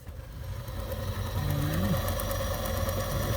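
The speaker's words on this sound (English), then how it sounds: "Pump works." Water pump in a 1966 Airstream Globetrotter trailer runs with a steady, fairly quiet mechanical hum and faint whirr, close by, with no talking over it.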